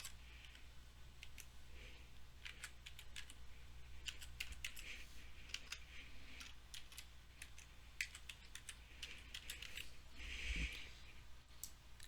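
Someone enters a password on a computer keyboard, giving a quiet, irregular patter of close key taps and clicks over a faint steady hum, with no talking.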